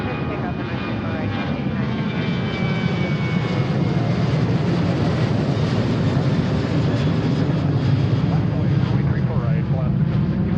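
A Delta jet airliner on its takeoff roll from runway 34 right, a steady broadband engine roar with a low rumble and high whine, loud and sustained throughout with faint radio talk underneath.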